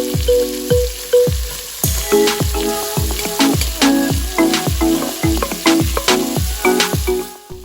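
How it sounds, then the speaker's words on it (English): Meat and onions sautéing in a pan for a Jamaican beef soup: a loud, steady sizzle broken by a quick run of rhythmic scraping stirs, close and continuous, with no voices. "Add the onions and saute for an additional 2 minutes."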